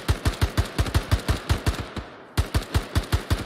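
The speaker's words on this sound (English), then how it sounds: "Side, I'm hearing gunshots right side." Automatic gunfire in the military shooter game ArmA 3, rapid evenly spaced shots in two sustained bursts with a short pause between, loud and close with no talk.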